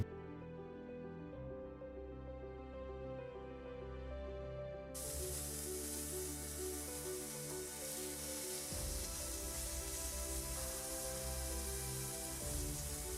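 Beef charring in a pan for pho broth, a steady sizzle that swells louder partway through and continues evenly, with a low hum running beneath.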